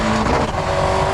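A 1996 Ford Escort RS Cosworth slides on a streaming-wet road, its engine droning loud and close under a rising tire squeal and road hiss through a brief skid.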